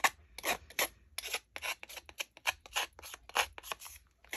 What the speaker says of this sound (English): when you rough up the edges like that, it grabs your ink really well and then ages it